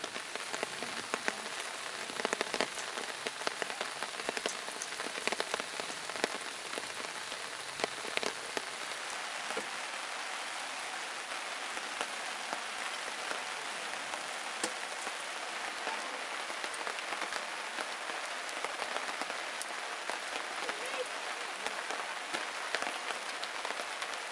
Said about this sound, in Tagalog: Umuulan na dyan banda at papunta na rin sa atin.